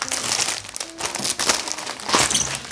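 Paper print packaging is handled up close, giving continuous crinkling and rustling with sharper crackles and small tearing sounds throughout, no voices.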